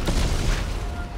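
A severed head explodes in Dead Space 3: a short, dull boom with noisy crackle, loud and brief.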